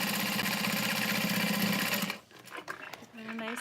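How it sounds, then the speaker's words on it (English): A sewing machine stitches the lining and exterior of a custom leather Emily bag together across the top, running steadily and loudly for about two seconds before stopping, followed by faint handling noises and a brief spoken word. "I'm just going to sew across the top."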